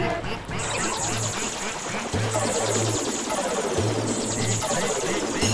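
Cartoon ducks quack repeatedly in loud, bright bursts, overlapping one another in a busy, continuous chorus.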